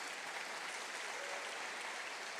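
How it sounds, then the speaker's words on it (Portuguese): Congregation clapping for the Lord Jesus during a church service, a faint, even wash of many hands heard from a distance, steady and unbroken throughout. "dê um aplauso bem forte ao Senhor Jesus."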